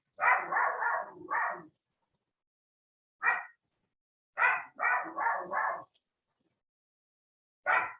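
A dog barks in quick bursts of three or four, then single barks after pauses, loud and close with silence in between and no one talking.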